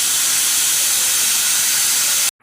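A pressure cooker cooking pongal rice on a medium flame lets out a loud, sustained hissing steam whistle that cuts off abruptly at the end.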